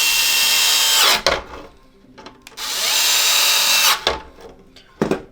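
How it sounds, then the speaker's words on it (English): A power screwdriver drives screws into an Xbox One X console, whirring in two long runs followed by short clicking bursts as each screw seats, close up and alone. "put it onto our console here. And then just screw in these two screws."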